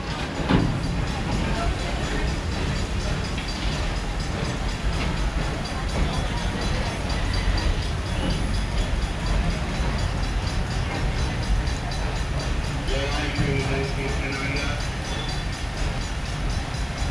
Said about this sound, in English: And now the train's going by,